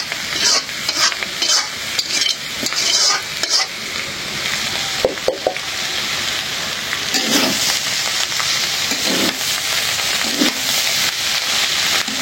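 Fish roe frying in a pan, with a steady loud sizzle that rises and falls as the roe is stirred and turned, a few utensil scrapes, and no voices.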